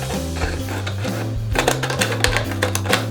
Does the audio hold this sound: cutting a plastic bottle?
yes